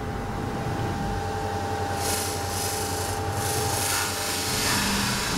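A robot polishing with a polishing disc gives a steady, close grinding rub under a constant machine hum, with brighter abrasive bursts in the middle of the run and no talking.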